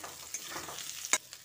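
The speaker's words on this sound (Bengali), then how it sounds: "এদিকে দেখুন আলু ও কাঁকরোলটা ভালোভাবে ভেজে নিয়েছি।" Potato and kakrol pieces frying in a pan with a steady close sizzle, stirred now and then, with a sharp scrape or clatter near the end; no talking.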